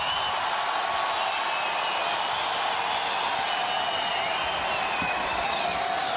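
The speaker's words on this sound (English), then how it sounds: "They're already roaring" Australian Open tennis crowd roaring during a men's semifinal, a dense, sustained wall of cheering and shouting that holds steady at full volume from start to finish, with no talk over it.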